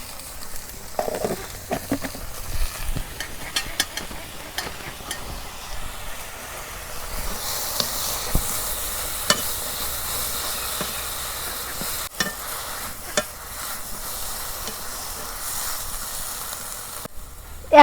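Leafy greens with a little salt fry gently in a pan, a faint, steady sizzle broken by scattered scrapes and taps of stirring, growing slightly hissier partway through.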